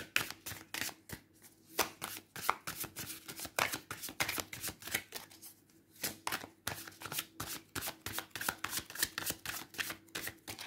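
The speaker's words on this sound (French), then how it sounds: "Je mélange un peu les cartes" Tarot cards being shuffled by hand, a quick rhythmic series of riffling snaps and soft slaps repeating throughout, close and quiet.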